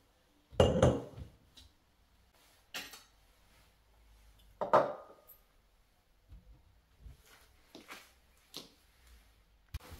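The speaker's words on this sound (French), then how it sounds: "On prend des verres à cocktail." Cocktail glasses clink and knock against a hard surface in a kitchen, several sharp glassy hits spaced irregularly with smaller taps between, fairly close and fairly quiet.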